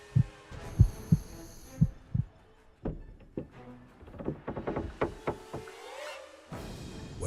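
A thumping heartbeat plays as a horror-story effect, low double pulses repeating near and loud in the first few seconds, then giving way to scattered knocks and a droning swell.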